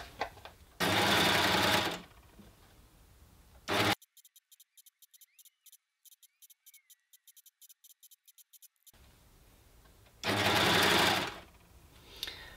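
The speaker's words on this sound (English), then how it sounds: "I'm sewing from the right side, and I'm going to get a lovely line of twin line of stitching on the right side" An overlocker sews twin-line stitching on jersey fabric in two loud, steady motor runs of about a second each, close up, separated by quieter stretches with brief stop-start whirs.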